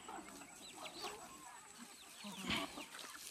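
Free-range country chickens cluck softly and intermittently on a farm, faint and close-mic'd with scattered calls and a brief rustle, no talk.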